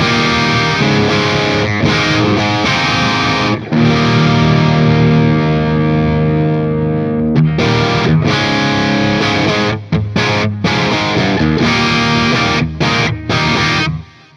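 An overdriven electric guitar plays through the red channel of a Synergy Syn20IR Morgan AC amp module, Marshall 800-style crunch, with dense distorted chords ringing loud and continuous, then choppier stabs toward the end. No voices are heard.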